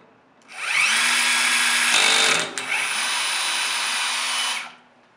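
Roscamat Tiger 110v tapping arm driving an M8 tap into a hole at 550 RPM: a loud steady motor whine that spins up, holds with a brief dip midway, then winds down.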